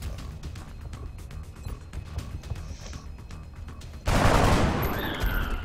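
Overwatch gunfire hitting a soldier in the XCOM video game, rapid crackling bursts of shots in a steady stream, ending in a louder, harsher blast of impact noise.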